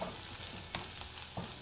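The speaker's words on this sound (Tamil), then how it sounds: "இப்போ இதையும் வந்து நல்லா வதக்கிடலாம்." Dried red chillies sauté in a pan with soft, steady sizzling and occasional light stirring scrapes, close and fairly quiet.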